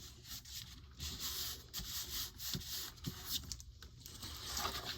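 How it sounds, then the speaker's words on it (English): Paper flap being rubbed down onto a hard sketchbook cover: a continuous close, dry scraping and rubbing with small pulses of pressure, heard alone without talk. "I'm even going to do a little rub along that side to make sure that I get it all the way folded in"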